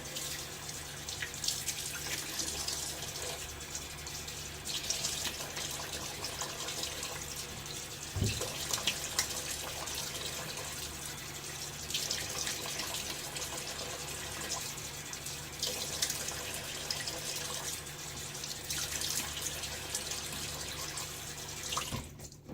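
Tap water runs steadily into a sink while shaving soap is rinsed off, a continuous close splashing flow with small drips and no talking.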